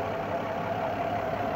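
A truck engine idling steadily nearby, a low even rumble with a faint mechanical hum and no voices.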